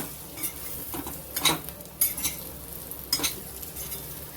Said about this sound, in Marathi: छान अशी परतून घ्यायची आपल्याला